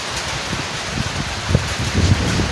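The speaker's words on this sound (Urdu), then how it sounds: "بہت ہی شدید قسم کی بارش اسٹارٹ ہو گئی ہے" Heavy rain pours down in a village, a steady, dense hiss with a few low thumps and gusts and no talk.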